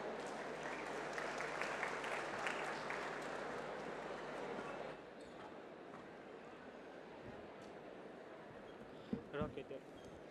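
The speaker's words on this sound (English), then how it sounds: "a wonderful round of applause for all the wonderful audience over here." An audience claps steadily for several seconds, then the applause thins into scattered claps and fades out.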